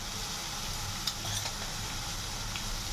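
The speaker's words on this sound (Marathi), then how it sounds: "आता इथे मी कांद्याला छान असं तेलात हो दिलेलं आहे" Onions frying in oil in a pan, a steady broadband sizzle held at a constant level close up, with a few faint clicks of a utensil and no talking.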